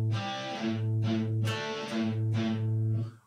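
Distorted electric guitar playing the opening measure of a song intro, a few chugging chords with open A-string notes in steady rhythm, close and clear with no talking.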